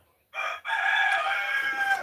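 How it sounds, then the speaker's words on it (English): A rooster crows loudly and close by, one long, strained call that cuts out briefly near the start and then holds steady to the end, with nothing else audible around it. "these roosters."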